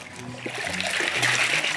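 Fresh water pours and splashes into a fermentation tank holding coffee beans during washed-process coffee production, a steady close rushing and sloshing with no talk.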